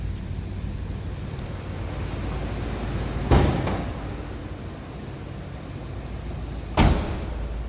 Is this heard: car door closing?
yes